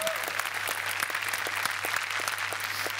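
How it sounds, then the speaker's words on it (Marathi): Studio audience applause for actress Gurleen Chopra on a Marathi TV comedy show stage, a steady dense clapping that fills the whole stretch at an even level. "गुरलीन चोप्रासाठी जोरदार टाळ्या."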